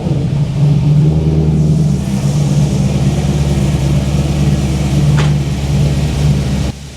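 A car engine, recently swapped, runs at a steady idle: a loud, even low rumble with a faint hum above it, holding steady before cutting off near the end, with no talking.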